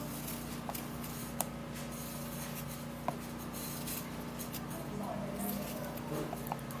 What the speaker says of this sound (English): for the potato, we're going to be peeling it off